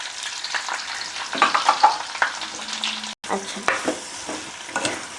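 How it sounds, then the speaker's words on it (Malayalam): Chopped onions go into hot oil with chillies, giving a loud, continuous frying crackle with stirring scrapes and clatters, briefly cut off before the sizzling resumes. "മുളക് നന്നേ ചൂടായി, നമുക്ക് അരിഞ്ഞു വെച്ചിരിക്കുന്ന സവോള കൊടുക്കാം."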